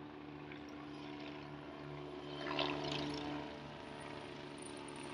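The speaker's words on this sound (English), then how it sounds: "I think that's a helicopter." A distant helicopter drones overhead, a steady low rumble with faint rotor texture that swells briefly, then settles back into the background hum.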